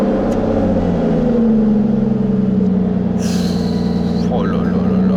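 An Aston Martin DBS V12 fires up with a sharp burst and then settles into a rising, revving engine note over a low rumbling background.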